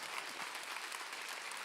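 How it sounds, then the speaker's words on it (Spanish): Steady, dense applause from an audience cheering a birthday guest at a celebration, filling the short moment at an even, sustained level with no talk over it. "Me toca a mí pedir, por favor, un fuerte aplauso para el cumpleañero."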